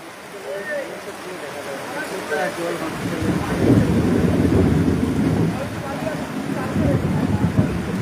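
Heavy downpour with thunder under stormy skies in the Sundarbans, a dense roaring rain hiss with deep low rumbling swelling in the middle, and a person talking over it.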